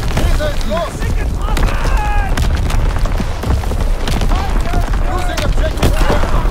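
Heavy artillery barrage in Call of Duty: WWII on the Shipment 1944 map, loud continuous rumbling booms and blasts with radio-style voice callouts and chatter layered on top.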